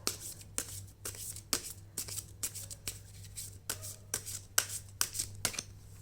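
Tarot cards are shuffled by hand close up, with about a dozen crisp, evenly spaced riffles and slaps over a low steady hum and no talk.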